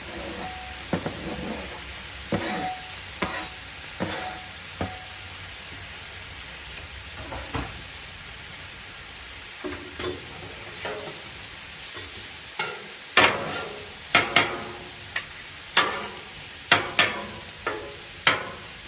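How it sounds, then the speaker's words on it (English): Garlic and onions fry in oil on a Blackstone griddle with a steady close sizzle, broken up by sharp scraping and stirring clacks of a spatula that come faster and louder toward the end. "We're going to get our garlic and onions going here."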